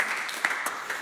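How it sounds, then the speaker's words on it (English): Brief applause from a small group of people in a church room, a short burst of overlapping hand claps in welcome. "Can we clap our hands and just welcome everybody that's joining us?"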